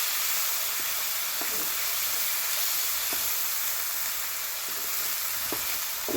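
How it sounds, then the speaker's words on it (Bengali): Hilsa fish frying with spice paste in a pan, a steady close sizzle with a few faint stirring clinks, no talking. "এরপরে আগে থেকে বানিয়ে রাখা মশলাগুলো মাছটির উপরে দিয়ে দিব, ভালো করে ভেজে নিব।"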